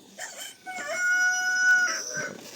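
A rooster crows once, clear and moderately near, its long drawn-out call rising and fading, with faint clucking around it, in the Baduy village of Kanekes, Indonesia.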